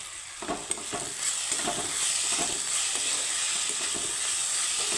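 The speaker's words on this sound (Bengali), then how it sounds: "আলুর সাথে আমি সুন্দর করে ভেজে নেব এখানে দিয়ে দিব কুচানো লঙ্কা" Potatoes frying with chopped green chili, a continuous soft hiss of hot oil punctuated by sharp stirring clicks and scrapes of a spatula against the pan.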